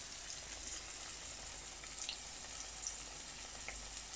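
Purple sweet potato croquettes frying in a pan of hot oil, a soft, steady sizzle with faint crackles and pops throughout, quiet and close, with no talk over it.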